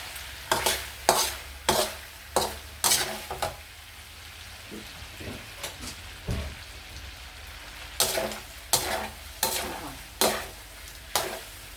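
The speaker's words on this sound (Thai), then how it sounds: "เคี่ยวไปน้ำมันออกแล้วก่นพี่น้องนี่ค่ะ น้ำมันออกแล้วค่ะ" Pork rinds rendering in hot oil for crispy pork cracklings: a continuous sizzle broken by a regular rhythm of loud scraping stirs, close and alone with no talking.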